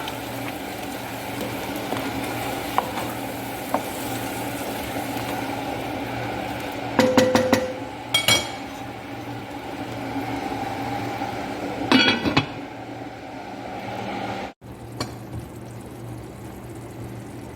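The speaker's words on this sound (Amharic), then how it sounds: "ቤተሰቦቼ በዚህ መልኩ እያቀላቀልኩት ነው።" Meat and tomato being stirred in a cooking pot give a few sharp clinks and scrapes of a utensil against the pot in short bursts, set over a steady low kitchen hum, with no talk.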